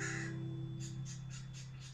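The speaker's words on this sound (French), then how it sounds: "Le corbeau est un oiseau très malin." A raven calls in Alaska, giving a series of five evenly spaced caws at moderate distance over a steady low hum.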